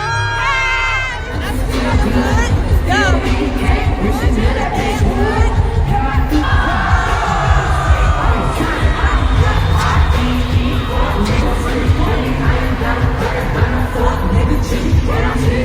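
Screaming and cheering from a dense crowd at a concert, a loud continuous roar of voices after a brief quieter start, with music faintly underneath.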